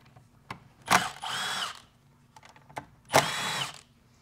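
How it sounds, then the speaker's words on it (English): A power tool fitted with an inverted Torx socket spins out transmission valve body bolts on a 6L80E gearbox, two close, loud whirring bursts about two seconds apart, with light clicks and handling noises between them. "we're going to go to our inverted Torx to get our valve body off"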